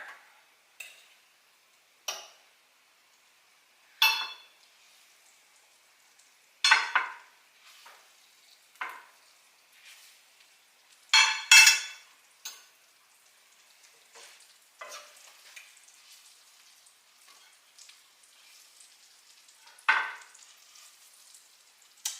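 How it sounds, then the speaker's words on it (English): Mushrooms moved into a baking dish and tossed in butter, scattered soft clinks, scrapes and brief sizzling bursts spaced irregularly in a quiet kitchen. "I'm just going to take these out, put them in my baking dish."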